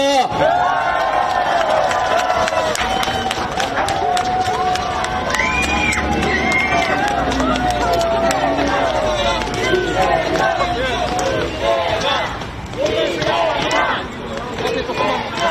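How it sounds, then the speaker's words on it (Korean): A crowd at a Korean election campaign rally in Dongdaemun, Seoul, applauds and cheers loudly and steadily, shouts and voices mixing into a dense, continuous roar that fills the whole stretch. "여러분 뜨거운 박수 부탁합니다."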